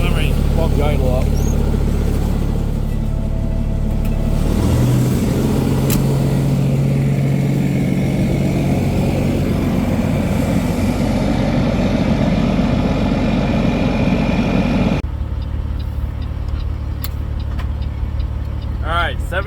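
A Peterbilt truck's diesel engine idles and is revved up, a loud continuous rumble whose pitch rises and holds, then drops back to a steadier idle near the end; a voice talks over parts of it.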